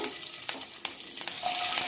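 Curry leaves and cumin spluttering in hot oil make a brief burst of crackling sizzle with a couple of sharp pops, close and steady.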